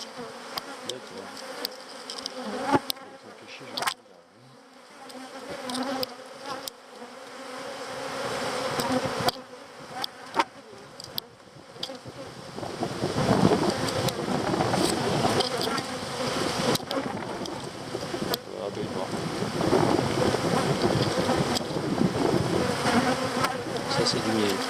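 Honey bees swarm around an open hive, a dense, close buzzing drone that builds and persists throughout, with scattered clicks and handling noises layered over it.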